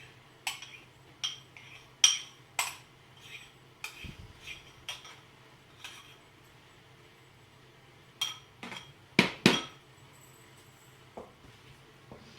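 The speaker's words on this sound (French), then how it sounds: "Cette sauce, nous allons la verser dans notre cube" Utensils clink and tap against a Cookeo pot as sauce for a Flemish carbonnade is poured in and stirred, giving scattered sharp metallic knocks spaced by quiet gaps over a faint low hum.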